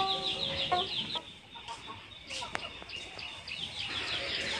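Chickens cluck and call close by while being fed in the morning, a busy patter of short clucks rising and falling, with a person talking intermittently over them.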